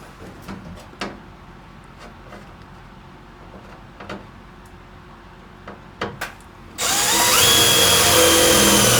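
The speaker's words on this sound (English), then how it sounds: "Drill my hole." Power drill boring a hole for a bolt while building a storage box shelf: faint handling clicks and taps, then the drill kicks in loud and close with a steady high whine for the last two seconds.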